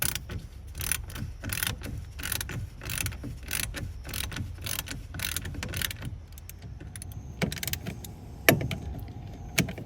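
Ratchet wrench clicking in quick repeated bursts as bolts are snugged in a crisscross pattern on a plastic RV sewer gate valve, close and alone with no talk.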